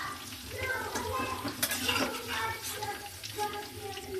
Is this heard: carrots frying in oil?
yes